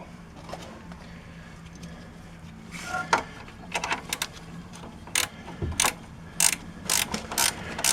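A ratchet tightens the upper ball joint nut on a 2007 Chevrolet Silverado or Avalanche, giving quick bursts of clicking strokes in an irregular rhythm that grow denser toward the end, close up.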